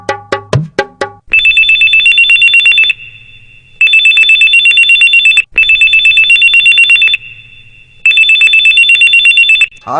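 A telephone rings loudly and close, in repeated long electronic trilling bursts separated by short pauses, after a few sharp clicks at the start.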